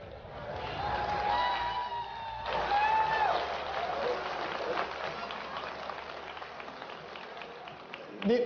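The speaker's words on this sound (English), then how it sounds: "These guys have to clap." A Linux World conference audience applauds, sustained clapping with some cheering after a presenter is welcomed, loud and continuous before tapering off.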